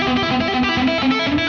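A brief, loud, distorted electric guitar lick is played with palm muting, its rapid notes tight and chugging in a short, punchy run.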